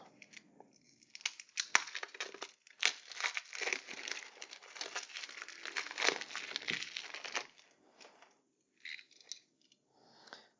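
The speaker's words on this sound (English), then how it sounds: "so let's open this too. So it's 2 packs for all the cards" Plastic wrappers on packs of Villagers board game cards torn open and handled, close crinkling and crackling in busy bursts that thin out into sparse rustles toward the end.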